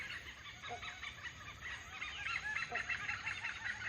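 Oriental pied hornbills calling in a forest canopy of fruiting fig trees, a busy run of harsh, honking, cackling calls that overlap continuously at moderate distance, with no voices.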